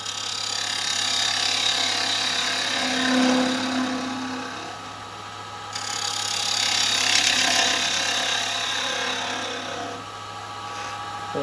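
A carbide chisel cuts a hollowed, lidded three-cornered wooden box spinning on a lathe, giving a steady broadband scraping hiss with a low hum that swells and eases over several passes, close and continuous with no talking.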